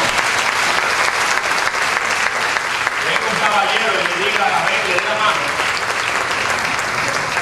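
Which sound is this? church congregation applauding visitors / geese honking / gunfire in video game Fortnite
church congregation applauding visitors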